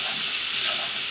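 Minced garlic sizzles and hisses steadily in a hot pan, roughly a teaspoon of it, with a broad close-up frying hiss and faint stirring underneath; no voices.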